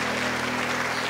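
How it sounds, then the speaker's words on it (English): Church congregation clapping during a Sunday service, a steady dense wash of applause filling the room with a low hum underneath, no voices standing out. "Give a better clap to Jesus."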